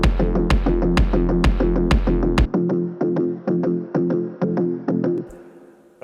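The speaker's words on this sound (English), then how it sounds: "Now this little grouping over here is also the Novation Bass Station plugin." Novation Bass Station plugin synth riff in steady triplets, punchy plucked notes with a deep bass layer under the first half that drops away, leaving brighter repeating stabs that fade at the end; no voices.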